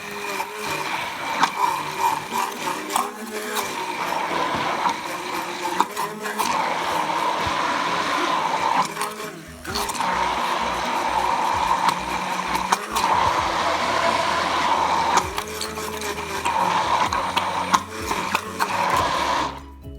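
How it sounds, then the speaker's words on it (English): A kitchen appliance runs steadily, whirring as it mixes homemade Caesar dressing. The motor's hum holds throughout with a few brief dips and bumps, loud and close, with no voices. "if you have one of these appliances, you can use this. So let's get it mixed up."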